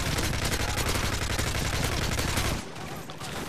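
Dense, rapid gunfire from the Modern Warfare 3 video game, a loud continuous burst of automatic shots that cuts off abruptly near the end, leaving a quieter tail.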